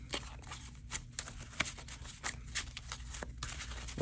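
Rapid papery riffling bursts repeat through the clip, close and fairly quiet, like Pokémon Trading Card Game cards being shuffled by hand with short pauses between passes.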